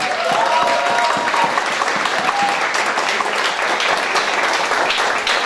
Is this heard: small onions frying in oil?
no